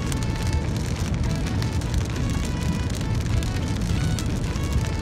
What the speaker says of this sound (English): We are here guys, it's still raining.